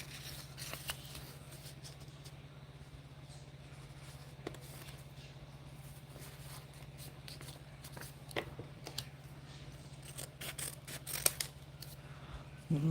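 Scissors snip copy paper at close range, quiet scattered cuts and rustles, with a denser run of snips near the end, set against a low steady hum while someone crafts a Christmas snippet roll.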